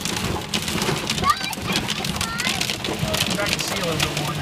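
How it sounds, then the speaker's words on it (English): Heavy rain pours down in Wyoming, with sheets of rain and water flowing over the road, a steady dense hiss drumming close by throughout with a possible rumble of thunder underneath. "I can see the sheets of rain."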